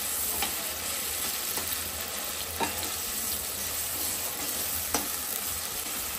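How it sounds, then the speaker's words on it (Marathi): Ground spice paste frying in oil with tomatoes for chicken sukka and curry gives a steady, close sizzle, with a few soft scraping stirs cutting through at intervals. "वाटण आपलं तेलामध्ये चांगलं परतून घ्यायचं"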